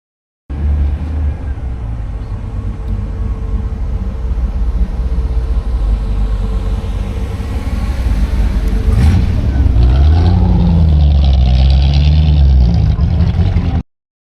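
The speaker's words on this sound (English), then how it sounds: "It's running a Rover V8 engine and other mods to brakes and suspension" A modified MGB Roadster with a Rover V8 engine idles at a classic car show, a continuous close, deep rumbling burble that swells toward the end, briefly under faint talk.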